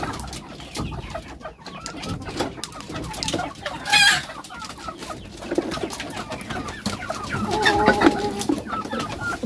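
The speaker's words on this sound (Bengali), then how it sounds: "যাও মুরগি, তোমরা ওরা ডিম পারতে থাকো" Hens cluck and chatter close by on a poultry farm, with a sharper squawk partway through and busy, irregular calls throughout.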